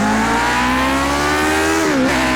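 The engine of a Lotus 49 race car in a racing video game, revving high and held in a loud, buzzing, steady tone that dips briefly near the end, close and with no voices.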